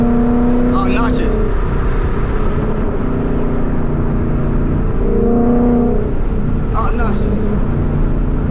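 A 2014 Ford Mustang GT V8 holding about 3,000 RPM on the road: a loud, steady engine drone with road noise throughout, and a voice breaking in briefly over it.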